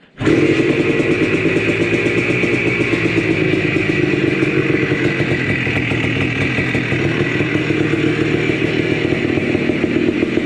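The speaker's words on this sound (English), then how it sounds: "Prime it up real quick, couple slow kicks with the throttle crack, choke on, TDC." A Honda ATC250R three-wheeler's two-stroke engine fires after kick-starting with choke on, then runs loud and close with a steady rattling idle for the whole stretch, without talk.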